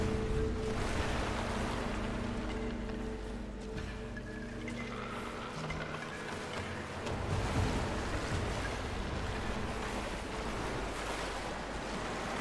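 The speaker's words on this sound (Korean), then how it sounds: "지금 물소리 들으니까 ASMR이야." Flowing, splashing water in the video game Rise of the Tomb Raider, a steady wash of running water and surf-like noise sustained through the whole stretch at moderate level, with no voices over it.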